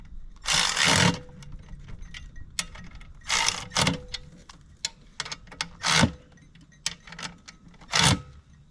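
Several short bursts of metallic ratcheting and scraping while bolts are tightened on a Flyway 60 automatic clay pigeon thrower during assembly, loud and close, separated by quieter clicks and handling noise, with no talking.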